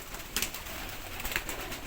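Pigeons coo faintly in a loft amid a hissy background, with a few soft calls and brief wing or perch sounds.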